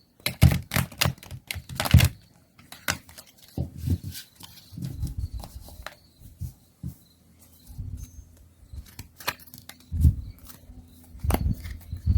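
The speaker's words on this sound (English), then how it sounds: "These cards are so hard to shuffle." Cards are shuffled close by in repeated bursts of quick riffling and tapping, separated by short pauses and softer handling.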